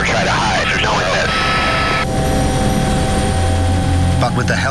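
A border patrol helicopter flying over the US–Mexico border roars loudly and steadily throughout, its engine drone dense and unbroken while voices talk over the top.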